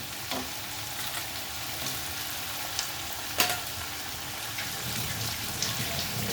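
Chicken pieces rubbed with salt and turmeric frying in hot oil in a pan, a steady broadband sizzle with a few faint clicks and one sharper clatter from a utensil, no voices.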